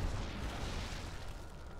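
Fireworks go off in a StarCraft 2 Lunar New Year mutation mission as a dense, continuous low booming rumble, loud and without pause, with no voice over it.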